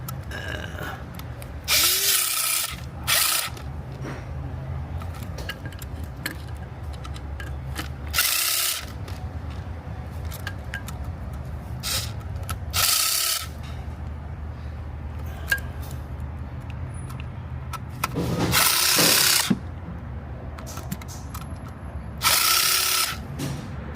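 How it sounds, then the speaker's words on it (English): A ratchet tightens an oil pressure sensor on a 2013 Jeep Grand Cherokee. Bursts of rapid clicking come in short runs of a second or two, repeated several times, close and clear over a low background hum. "With my ratchet, make sure it's tight."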